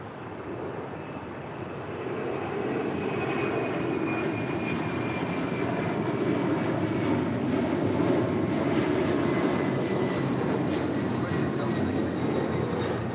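A Southwest airliner's jet engines roar steadily and build in loudness at LAX, a broad sustained rush from nearby that lasts throughout, with radio chatter faintly mixed in.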